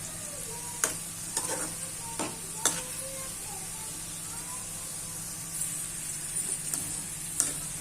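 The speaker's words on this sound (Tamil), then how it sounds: "இந்த வெண்டைக்காய் எல்லாம் கிறிஸ்பி ஆகிற வரைக்கும் நல்லா ஃப்ரை பண்ணிக்கோங்க." Okra frying in hot oil until crispy, a steady close sizzle and hiss running throughout, with a few sharp clicks and scrapes from a utensil stirring the pan and no talking.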